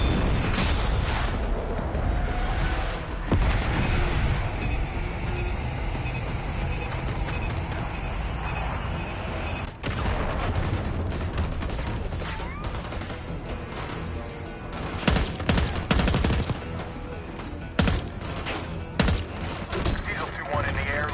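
Video-game combat with bombs dropped from the air and heavy gunfire, loud dense bursts and explosions rolling continuously with sharper clusters of blasts toward the end.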